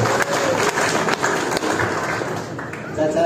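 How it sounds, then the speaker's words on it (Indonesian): Applause from villagers at a village development planning meeting in Randupitu, honoring the village head: a crowd of hands clapping in a dense, fairly close patter that eases slightly before swelling again. "Tepuk tangan untuk Pak Kepala Desa"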